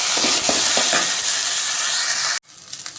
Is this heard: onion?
yes